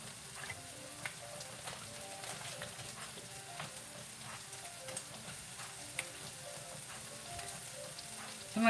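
Garlic butter shrimp and broccoli sizzling in a pan with extra butter added, a dense crackling hiss dotted with small pops, steady and close throughout.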